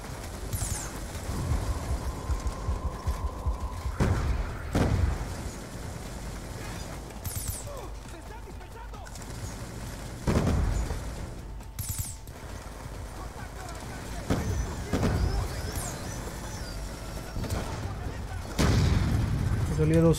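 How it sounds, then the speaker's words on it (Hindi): Grenade launcher explosions in Call of Duty Black Ops 2, several heavy booms spaced a few seconds apart over continuous battlefield noise, with someone talking between them. "grenade launcher"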